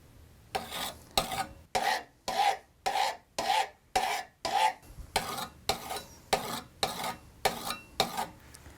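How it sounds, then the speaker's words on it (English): A steel burnisher, tipped slightly, is drawn along the edge of a card scraper to turn a hook, giving about fourteen steady, evenly spaced rasping strokes, close and clear with nothing else around them. "all I'll do is just tip the burnisher a little bit and do passes on each side to create a hook on both sides of the card scraper"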